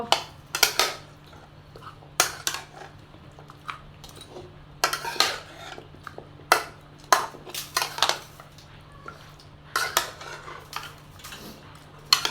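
Local fish being mixed in a dish with metal utensils gives a quick series of clinking, scraping clatters in irregular bursts, close and fairly loud against a quiet background hum, with no talking.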